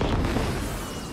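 Fireworks going off in the PS5 game Spider-Man 2: a dense, rumbling wash of low booms and crackle, loud and sustained throughout with no gaps.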